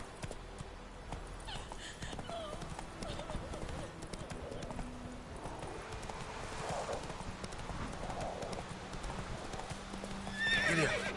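A horse gallops in The Witcher 3, with rapid rhythmic hoof clip-clops running throughout, a whinny rising near the end, and a voice talking over the ride.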